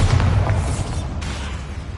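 Bombarda spell explosion in Hogwarts Legacy, a deep rumbling boom that sounds close and loud, then a broad noisy blast tail that fades gradually.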